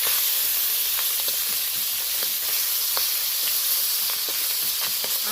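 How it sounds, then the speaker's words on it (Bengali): Tengra fish fry in hot oil with a dense, steady sizzle and hiss, while intermittent scrapes and clicks of a spatula stirring the pan cut through the frying. "আমি তেলের মধ্যে দিয়ে একটু নাড়াচাড়া করে নিলাম"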